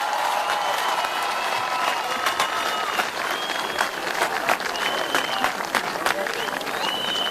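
A large outdoor crowd at a political rally in Zugdidi claps continuously, a dense, loud, even wash of applause with scattered whistles and shouts throughout.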